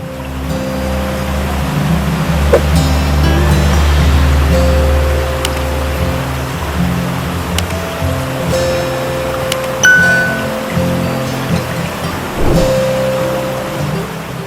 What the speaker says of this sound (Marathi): पालेश्वरचा धबधबा हा खरं तर सांडवा आहे